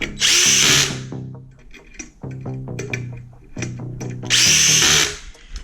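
Power drill driving screws on a ceiling fan being installed, several short whirring bursts that rise and fall, loud and close, with two longer high-pitched runs, no talking.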